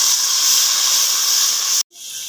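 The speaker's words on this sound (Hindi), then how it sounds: "अब सिर्फ हम इसको भूनेंगे लहसुन अदरक को" Garlic and ginger paste fries in a pot with a loud, steady hiss that cuts off abruptly near the end before the sizzle resumes more quietly.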